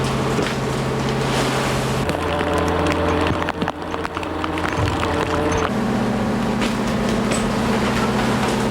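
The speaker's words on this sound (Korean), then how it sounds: "거친 파도가 배전을 치면서 낚시 상자 더미를 떠밀려 버렸다" Rough storm waves slap against the side of a Jeju tilefish fishing boat out in the East China Sea. A heavy, steady engine drone and wind carry throughout, with irregular splashing thumps rising midway.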